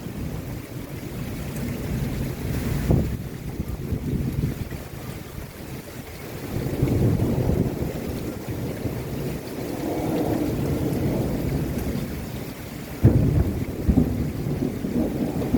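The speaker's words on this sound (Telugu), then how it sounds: "ఉరుములు మెరుపులతో భయంకరంగా ఏ విధంగా అయితే కుంభవర్షం కురుస్తుందో ఫ్రెండ్స్, అది చూపించే ప్రయత్నం చేస్తున్నాను" Heavy summer downpour with thunder in North Carolina: steady rain hisses throughout while deep rolling thunder swells and fades several times, with a sharp crack near the end.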